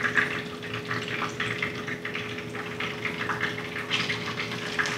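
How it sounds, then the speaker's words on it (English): Water poured into a fish taco sauce to thin it, a steady running, filling wash with no talk. "So I'm gonna throw a little bit of water in there."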